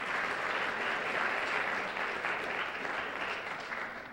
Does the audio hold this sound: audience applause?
yes